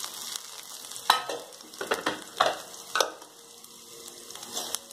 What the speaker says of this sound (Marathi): एक चमचा तेल झाला, मोहरी दाणे, कढीपत्ता, मिरची, कोथिंबीर तेलातच टाका.